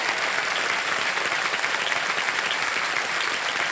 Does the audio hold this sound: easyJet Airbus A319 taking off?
no